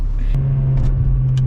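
A Mercedes A45 AMG with a stage 2 tune and about 430 bhp idles and burbles up close. The deep, loud rumble is steady, with small crackles on top.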